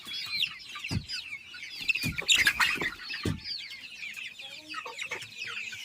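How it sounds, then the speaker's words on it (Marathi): Native village chicks chirp continuously in a flock, their high peeps overlapping near the microphone, punctuated by several low thumps and a brief burst of louder cheeping midway. "ही गावठी पिल्लं आहेत"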